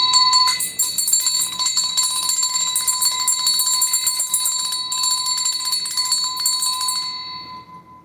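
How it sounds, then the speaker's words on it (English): A bright ringing bell tone sounds loud and sustained with rapid repeated strikes, then fades away toward the end, with no speech over it. "Hit that bell notification,"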